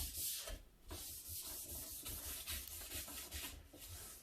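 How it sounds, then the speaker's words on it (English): Lint-free cloth rubbed over bottle wax on the base of a waxless cross-country ski, giving a steady, close scratchy rubbing with repeated back-and-forth strokes. "I'll take a lint-free cloth and I'll just kind of smooth it out"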